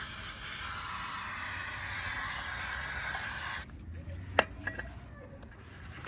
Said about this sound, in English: So I'll go on brake cleaner.